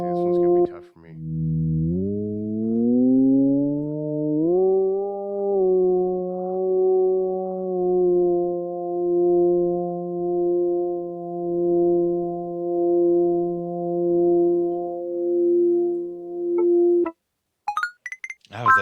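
Steady synthetic test tones from a tone-matching sound game glide upward in pitch in a few steps, then hold for a long stretch before cutting out, with a faint pulsing wobble.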